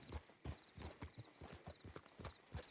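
Horse hooves clip-clopping at a steady trot in the Red Dead Redemption WildRP game world, even rhythmic beats close and fairly quiet, with no talking over them.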